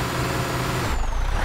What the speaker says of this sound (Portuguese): Isso aqui é o ronco do motor dele